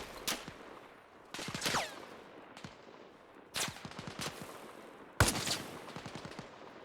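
Gunfire in the military video game Arma Reforger: several sharp shots and short bursts spread across the scene, some close and loud, others more distant, with no talk.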